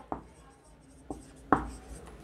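Chalk or marker writing on a board during a maths class, heard as a few sharp separate taps and short strokes spaced irregularly, fairly close, with no voice over them.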